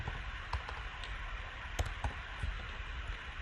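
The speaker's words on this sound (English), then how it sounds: "If you type continue here" Quiet computer keyboard typing, a few scattered key clicks over a steady background hiss.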